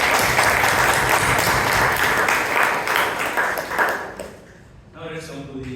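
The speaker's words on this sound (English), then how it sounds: "Let's give a lot of applause to both." Loud applause from the audience at a Bangalore Toastmasters club meeting for a speech and its evaluation, dense clapping that dies away after about four seconds, followed by faint ringing tones.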